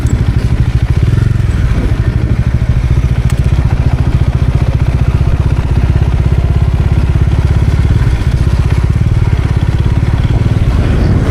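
Loud, steady engine rumble from motorbikes arriving at a biker meetup fills the clip, close and continuous, with occasional clatter and no clear talk.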